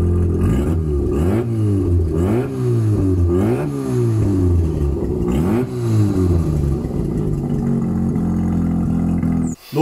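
A rebuilt Mazda RX8 drift car engine revs loudly and repeatedly up and down in close, rising-and-falling sweeps, steady throughout with no talk, cutting off abruptly at the end.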